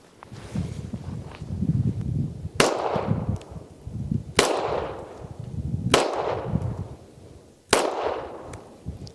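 .40 S&W pistol rounds fired outdoors in four loud, sharp reports spaced about two seconds apart, each trailing off in a long echo. Rustling and movement noise fill the gaps between shots.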